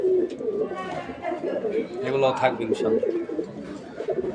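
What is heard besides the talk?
pigeons cooing in a loft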